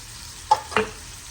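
Garlic and ginger stirred in a hot pan, a soft background sizzle broken by two quick scraping strokes of a spoon, close and brief, with no speech.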